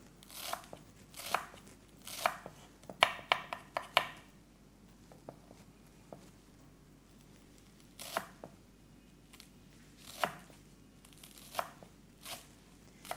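A knife chops onions on a board while food is prepared for Ramadan, quiet close taps and crunchy cuts coming in short irregular bursts separated by pauses.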